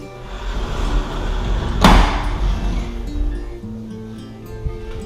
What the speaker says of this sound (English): these really large, deep closets with sliding doors